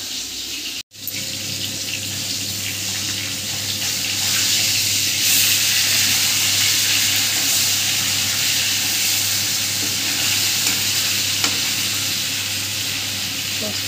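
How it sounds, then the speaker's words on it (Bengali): Hilsa fish frying in hot oil, a steady broadband sizzle and hiss that swells after a brief dip near the start and holds loud and continuous throughout, with no talking. "মাছটা এইভাবে ভেজে নেব"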